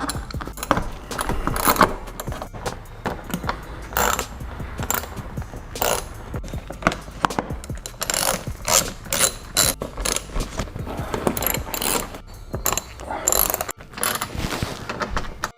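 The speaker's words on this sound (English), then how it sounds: "we're going to go and take an 8mm and go ahead and get all the mini bolts" Ratchet with an 8mm socket removing the small belly pan bolts under a BMW 335i, close rapid clicking in repeated bursts with metallic jangles and brief pauses between bolts.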